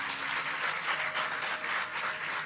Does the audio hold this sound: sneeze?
no